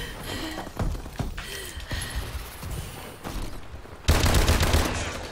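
Bursts of rapid gunfire from dual pistols in a video game crackle in quick succession, with a louder, denser volley near the end.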